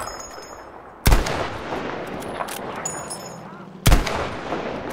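Two loud, sharp sniper rifle shots in Battlefield V, about three seconds apart, each with a long rolling echo tail over steady battlefield ambience.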